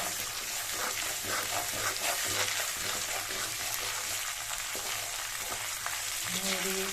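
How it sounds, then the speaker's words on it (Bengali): Dal poured into a pan of hot spice mix for a vegetarian offering dish sizzles and fries loudly and steadily, with stirring scrapes and a watery gush over the constant hiss. "এখন আমি ডালটা ঢেলে দেবো ভিতরে"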